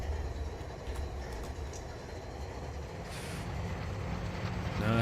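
GE diesel locomotive from the Run 8 train simulator, a steady low engine rumble with rail noise running throughout, loud and close, swelling slightly at the end.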